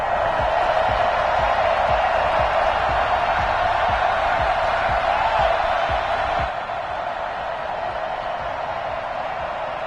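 A home crowd at a Steelers vs Titans playoff football game cheers as a steady, loud stadium roar that continues throughout and drops slightly near the end.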